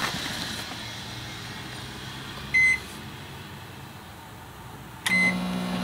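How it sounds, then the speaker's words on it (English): A microwave oven in a truck camper, running on battery power, hums steadily with two short electronic beeps a few seconds apart. It is close and fairly loud, with no talking. "let's see if the microwave works."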